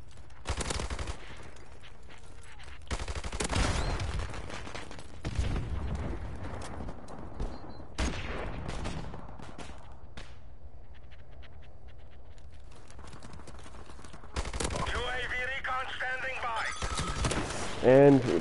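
Gunfire in Call of Duty Modern Warfare Remastered, including a Magnum, comes in several loud sharp bursts separated by quieter stretches, with a voice talking under the shots.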